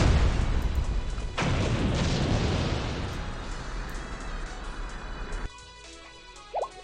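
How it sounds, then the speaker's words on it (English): Loud explosions in the Blue Archive video game, a sustained rumbling blast with a sharp burst partway through, fading into quiet with a brief tonal sound near the end. "Explosions!"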